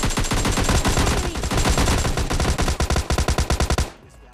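Automatic gunfire from two enemy players in a solo-versus-squad mobile battle royale game on a Samsung phone: dense, loud continuous bursts that break into a quick run of separate shots near the end, then stop abruptly.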